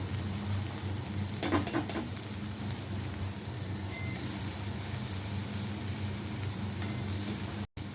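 Prawns fry with spring onions and turmeric in a pan, giving a steady, moderate sizzle with a few brief scraping stirs early on and a short cut near the end.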